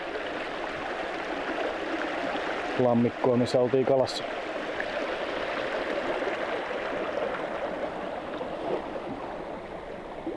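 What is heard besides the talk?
small brook flowing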